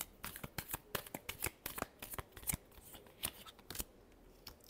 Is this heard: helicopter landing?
no